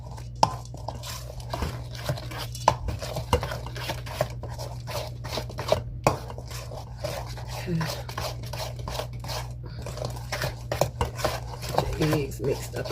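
Eggs being mixed into loose cornbread batter for a Mexican cornbread casserole, heard as continuous scraping and clinking of a utensil against a bowl with irregular taps, over a low steady hum.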